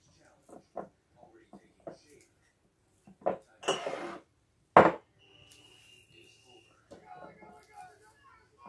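Glass canning jars clink and knock while being handled during pressure canning of beef, a few sharp close clatters amid scattered lighter taps, with soft talk between.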